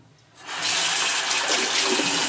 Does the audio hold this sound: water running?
yes